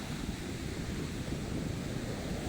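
Strong surf pounds a surfing beach at North Shore, Baler, Aurora, a dense continuous roar of breaking waves with wind rushing across the microphone and no voices.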